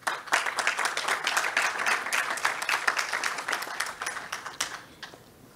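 At a mining forum in Peru, an audience gives a strong round of applause, crisp individual claps forming a lively patter that swells, holds, then tapers off toward the end.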